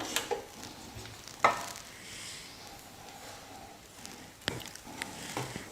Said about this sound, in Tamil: இந்த எண்ணெயில் சேர்த்துக்கலாம் மசாலாலாம்.